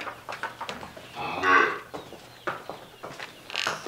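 A miniature cow on a small dairy farm gives a drawn-out moo in the middle of steady barnyard noise, with other farm sounds around it.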